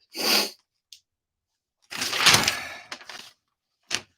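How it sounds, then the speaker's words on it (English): A sudden sneeze bursts out near the start, followed by a pause, then a longer burst of breathy noise and a short sharp sound at the end. "It's just a sneeze."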